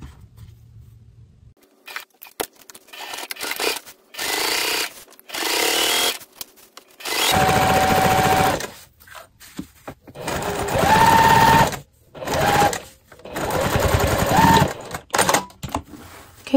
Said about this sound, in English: Now we're going to take this to the machine and we're going to baste these sides in.